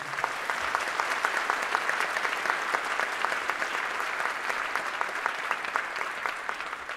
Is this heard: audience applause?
yes